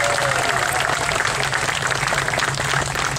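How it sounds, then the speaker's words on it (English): A dense, steady wash of clapping from a sizable crowd at an outdoor park grand opening with a classic car show, continuous and even throughout, without any speech over it. "Let's give a round of applause for our classic car owners."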